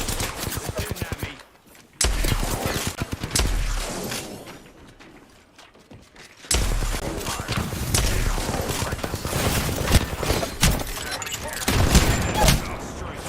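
Rapid bursts of gunfire from an Apex Legends match ring out loud and dense, with a short lull midway before heavy shooting resumes and continues to the end.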